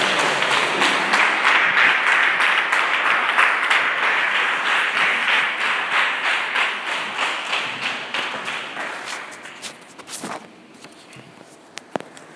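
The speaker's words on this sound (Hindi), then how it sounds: "धन्यवाद करने के लिए निखिल सामने आइए तालियों के साथ" A church congregation bursts into dense, steady applause to welcome a speaker to the front, the clapping sustained for about ten seconds before thinning into a few scattered, fading claps.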